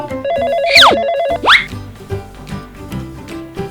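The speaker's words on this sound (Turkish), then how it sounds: "Telefonum çalıyor." A mobile phone ringtone plays close and loud: a bright, warbling electronic melody with quick rising chirps, followed by softer plucked musical notes.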